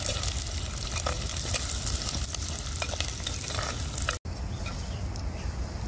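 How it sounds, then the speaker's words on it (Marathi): Sliced onions frying in oil in a pan for khichdi, a steady close sizzle with occasional stirring scrapes. "आता कांदा मी लाल होईस्तर परतून घेणार आहे."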